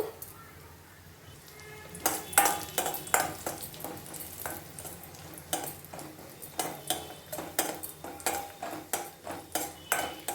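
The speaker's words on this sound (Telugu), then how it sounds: "జీడిపప్పు, బాదం పప్పు, కిస్మిస్ వేసినాను. చూడండి, వీటిని వేసి వేయించుకుందాము." Cashews, almonds and raisins are fried in a pan for a jaggery poha kheer, with a spoon scraping and clinking against the metal in quick, uneven strokes over a soft background hiss.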